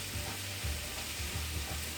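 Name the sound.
chicken sizzling while browning in pan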